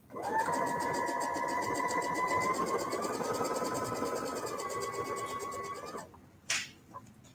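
A sewing machine stitches fabric in one continuous whirring run of about six seconds, close and steady, then stops, followed by a brief clunk.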